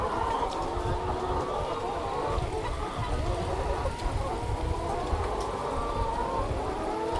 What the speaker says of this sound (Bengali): মুরগির ডাকগুলো শুনতে ভালোই লাগে।